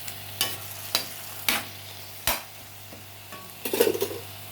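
Spinach and tomato cook in oil in a pan while being stirred, a soft sizzle under sharp scraping knocks of the spoon at irregular intervals, ending in a brief clatter.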